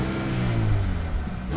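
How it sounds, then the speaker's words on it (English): A 2022 Mercedes-AMG CLA35 heard from outside as its exhaust revs, a loud, steady engine drone throughout with low rumbling and no clear separate crackle pops. "the actual exhaust does make those crackles from the outside as well"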